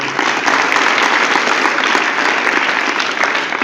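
Loud, dense applause from an audience at a Vedic school gathering, continuous clapping that stays strong and even for nearly four seconds.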